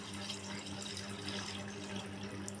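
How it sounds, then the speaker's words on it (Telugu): Tamarind water poured into a bottle gourd curry cooking in a pan, a steady, even liquid pour running throughout with a faint low hum underneath and no talking. "నేనైతే చింతపండు వాటర్ కూడా పోసేస్తున్నాను"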